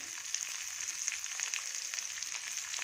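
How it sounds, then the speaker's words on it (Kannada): Mustard seeds with chana dal and urad dal splutter in hot oil, a dense close crackle of tiny pops over a steady sizzle, with no talking. "ಇವಾಗ ಸಾಸಿವೆ ಕಡಲೆಬೇಳೆ ಉದ್ದಿನಬೇಳೆ ಹಾಕ್ತೀನಿ ಇದೆಲ್ಲ ಸ್ವಲ್ಪ ಚಟಪಟ ಅಂತ ಸಿಡಿಲಿ"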